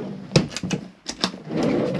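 A storage drawer in an Adria Coral caravan kitchen slides open with a few close, sharp knocks and clicks followed by a soft rumble of runners.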